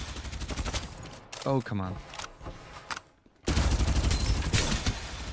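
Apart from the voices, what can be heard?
gunfire in the video game Farlight 84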